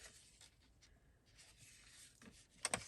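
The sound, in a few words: closing a paper envelope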